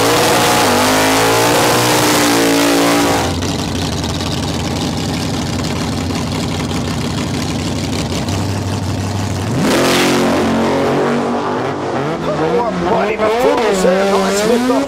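Drag cars race off the line at Heathcote Park, including a Holden Torana, with loud engines roaring and revving away, then a second burst of hard acceleration with tire noise as an announcer commentates over the top.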